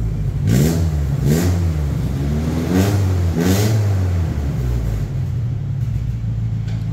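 A Toyota Kijang Super engine revs hard several times in quick bursts, its loud racing exhaust roaring and rumbling close by between throttle blips.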